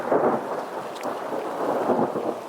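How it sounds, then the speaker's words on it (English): Thunder rolls in a steady low rumble during a hailstorm, with dense rain-like hiss over it, continuous and fairly loud outdoors. "That's light, that's thunder."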